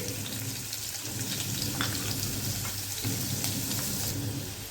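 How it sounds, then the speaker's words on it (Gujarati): Garlic cloves and chopped hot green chillies sautéing with asafoetida in hot oil, a soft, steady sizzle with occasional stirring scrapes, fairly quiet and close, with no one talking. "અને લસણની સરસ આપણું સતળાઈ ગયું છે, તમે જોઈ શકો છો।"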